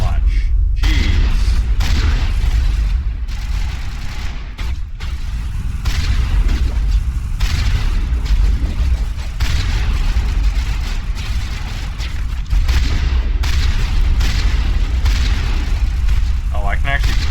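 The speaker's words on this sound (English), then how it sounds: "Oh, I can actually fire this shotgun pretty rapidly." Rapid shotgun fire in a video game, heavy booming blasts repeating over a constant loud rumble of battle noise, with a person talking throughout.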